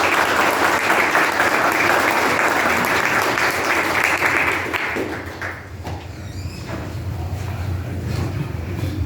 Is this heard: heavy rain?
no